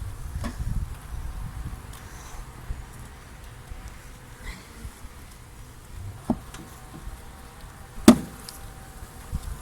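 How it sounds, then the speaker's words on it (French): Honeybees buzz inside a hive feeder, and the hum stays low and steady throughout. A few sharp knocks and taps break through, with one louder thump near the end. "Faire tomber toutes les abeilles que j'ai dans le nourrisseur."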